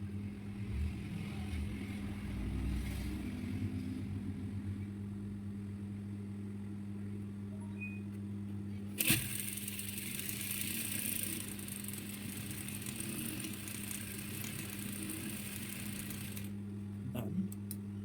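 A sewing machine stitching elastic onto a trouser waistband, a steady low motor hum running continuously with a brief sharp clack midway and a brighter whirring burst before settling again.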